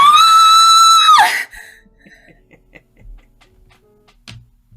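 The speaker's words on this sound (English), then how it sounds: "She screams as his lifeless body lies on the floor." A woman's loud, sustained scream in an old-time radio drama, held steady for over a second before breaking off, followed by quiet scattered rustles and small knocks.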